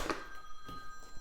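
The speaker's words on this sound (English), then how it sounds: "Oh, what do you know? The phone's ringing." A telephone rings indoors in short, repeated electronic bursts, moderately loud against a quiet room, with no talk.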